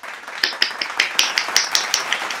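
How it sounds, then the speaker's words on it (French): Several hands clap in a quick, steady run of sharp, close claps lasting a couple of seconds, with no talking. "On applaudit tous ces produits de l'année 2018."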